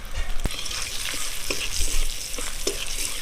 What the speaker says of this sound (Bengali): এবার আমি ওই তেলের মধ্যে দিয়ে দেবো অল্প করে একটু কালো জিরে, 2টো কাঁচা লঙ্কা, একটু হলুদের গুঁড়ো দিয়ে দেবো